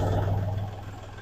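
A Kubota tractor engine, being readied to mount a front snow blower, runs with a steady low diesel idle and light clatter, close and fairly loud throughout.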